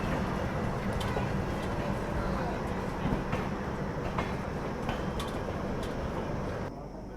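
Another train overtaking the Udhna Banaras Express, heard as a steady low rolling rumble with faint rhythmic clacks over several seconds, the noise dropping off abruptly at the end while a voice speaks over it.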